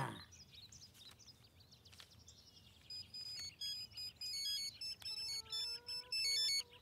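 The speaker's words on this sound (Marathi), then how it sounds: "फोन आलाय अण्णा." A phone ringtone in a Marathi film scene plays as a repeated electronic melody of short tonal beeps, starting after a few seconds of low room noise and building to a steady, fairly loud rhythmic pattern that continues to the end.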